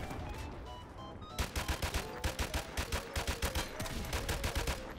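G3 battle rifle firing in Modern Warfare Remastered, a rapid run of loud, close, evenly spaced shots in bursts over a steady bed of in-game battle noise.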